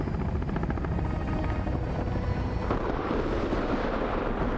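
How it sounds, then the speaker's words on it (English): Helicopter in the survival game Sons of the Forest, a loud continuous rotor thrum with dense low rumble that holds steady throughout, with no talk over it. "Yeah, I'm in a helicopter."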